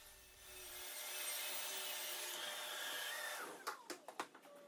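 A saw cuts a wooden corner TV stand top to final size, a steady, fairly quiet whine running for about three seconds before it stops, followed by a few sharp knocks.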